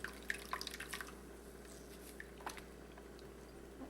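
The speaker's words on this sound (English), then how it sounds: "Just squeeze milk right out of it." Coconut milk drips and spatters as blended coconut is squeezed by hand, a cluster of small close drips early on, then scattered faint drops over quiet background.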